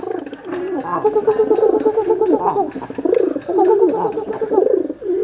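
Pet pigeons coo as a male courts a hen, giving repeated rolling, throaty coos in close, steady bursts, with a little chatter faintly behind.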